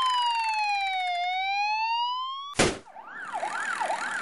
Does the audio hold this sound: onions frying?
no